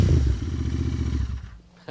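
A Royal Enfield Continental GT650 with a Gursewak exhaust, baffles removed, gives a deep, bassy burbling rumble up close, fading quickly to quiet within two seconds.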